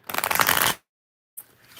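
Tarot cards shuffled by hand during a live reading: a dense, crisp riffling burst lasting under a second, then silence and a faint soft rustle of the deck settling.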